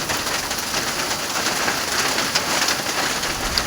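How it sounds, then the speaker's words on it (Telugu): Hailstones and heavy rain batter a shop roof in Telangana, a dense, steady patter of many small impacts at close range with a few sharper hits standing out, no voices. "వడగండ్ల వాన పడుతుంది."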